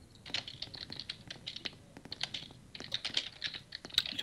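Someone types on a computer keyboard during a Roblox Apocalypse Rising game session, with bursts of close, crisp key clicks in an uneven rhythm and no talking.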